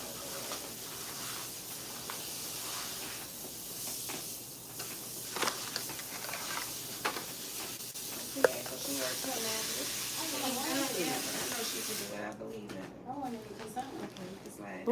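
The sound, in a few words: water spray rinsing hair at salon sink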